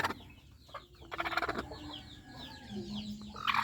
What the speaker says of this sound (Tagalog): mayroon naman tayo ditong manok na lumilimlim